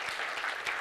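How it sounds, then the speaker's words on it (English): Audience applause at a university research-talk competition final, a steady dense wash of many hands clapping throughout, fairly soft and at a distance, with no voices over it. "Everyone, round of applause."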